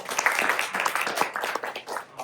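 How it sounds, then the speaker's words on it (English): Round of applause from a high school audience at a Stanford talk welcoming a Nobel laureate, a dense steady patter of many hands clapping alone for about two seconds. "Let's give him a round of applause."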